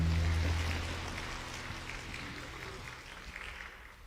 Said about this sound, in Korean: 함께 축복의 박수를 보내셨으면 좋겠습니다